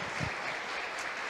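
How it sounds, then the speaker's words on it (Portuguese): Church congregation applauding during a sermon, a steady wash of clapping filling the whole short stretch at moderate level with no talk over it. "Você pode aplaudir a Ele, porque Ele é demais."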